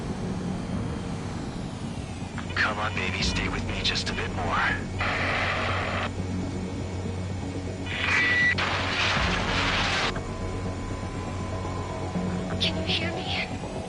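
Damaged fighter jet coming in to land in Ace Combat 7, engine roar and radio chatter running throughout, with alarm-like tones and bursts of noise, while a voice speaks over it.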